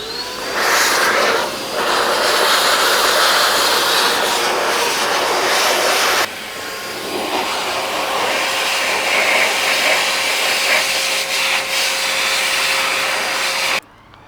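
An air blower drying a motorcycle chain gives a loud, continuous whooshing roar, with a brief dip early, a shift in tone partway through and an abrupt cutoff near the end; no talking.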